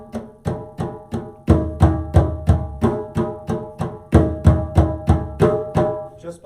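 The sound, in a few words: djembe drum played tilted forward, open bottom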